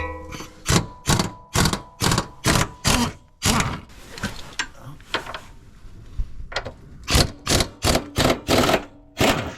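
A pneumatic impact wrench loosening strut bolts on a Jeep Renegade, rattling in repeated short bursts with brief pauses between them, loud and close.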